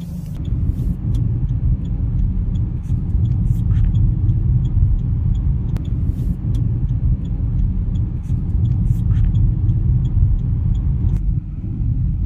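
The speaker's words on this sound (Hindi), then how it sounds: "इसको चला के देखते हैं एंड देखते हैं कि ये कार कैसा परफॉर्म करती है।" A Maruti Brezza car being driven, its engine and road rumble a steady low drone from inside the cabin with occasional clicks and taps.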